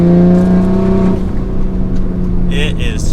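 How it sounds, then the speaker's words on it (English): A 600 wheel horsepower Toyota Supra wide body running methanol and nitrous, its engine droning loudly from inside the car at steady revs, easing off partway, with faint chirps over the engine note. "what is it like driving a more than 600 wheel horsepower Toyota Supra?"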